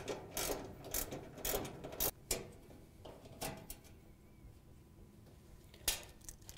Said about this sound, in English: we have to remove this 1/4 inch screw that holds it in on the top. Just grab a small socket and take it out.